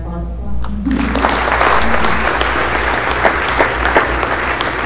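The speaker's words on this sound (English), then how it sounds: "So they give a round of applause as well." An audience at a student awards evening bursts into applause for speakers and donors, sharp clapping rising quickly after a brief voice and continuing as a full, sustained round with scattered louder claps.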